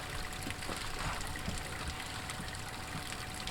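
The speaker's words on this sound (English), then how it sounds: "So this is the fresh. We're draining it now." Water drains from a camper's fresh water tank with a steady, continuous trickling rush that stays even throughout, with no voices.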